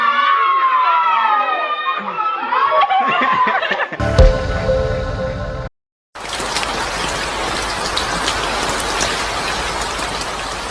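After a stretch of chirpy squeals and a brief silent gap, steady rain patters and hisses continuously, fairly close and even.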